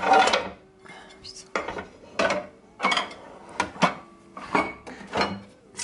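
Pots and pans being put away in a home kitchen in France, a series of clanking metal knocks and rattles in separate bursts, close and fairly loud.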